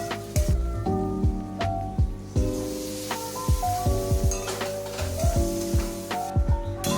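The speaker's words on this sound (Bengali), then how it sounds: "লঙ্কা গুঁড়ো, ধনে গুঁড়ো দিয়ে নেড়ে নেবো ভালোভাবে।" Chili and coriander powder sizzle and fry in a pan while being stirred, with repeated scraping clinks of the spoon over a steady crackling sizzle, close and fairly loud, no speech.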